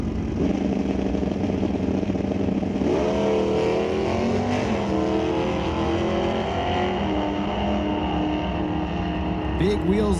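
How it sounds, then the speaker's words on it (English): A Plymouth Duster and an AMC Pacer launch in a drag race. Loud engines rumble at the line, then rev up sharply and climb through rising pitches, and a commentator's voice runs underneath. "Big wheels up launch for Pete."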